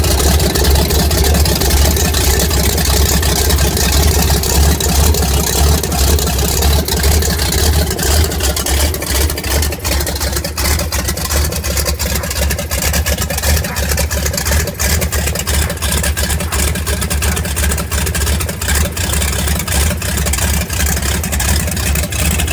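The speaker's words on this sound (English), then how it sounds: "you can see how slow the motor's really running" A Studebaker engine powered by a Minuteman missile runs slowly, droning loud and steady throughout with a continuous low rumble and no pauses.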